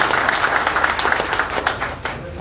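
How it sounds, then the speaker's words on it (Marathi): An audience at an outdoor felicitation ceremony for Shinde claps together in a dense, sustained round of applause that tapers slightly toward the end. "सगळ्यांनी एकदा टाळ्या वाजवून शिंदे साहेबांचं अभिनंदन करावं"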